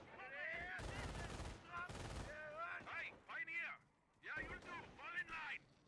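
Mortar fire in a Company of Heroes mod match, two heavy booming blasts near the start amid distant battle noise, with voices talking and shouting throughout.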